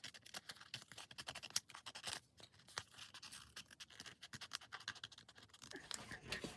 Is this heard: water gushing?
no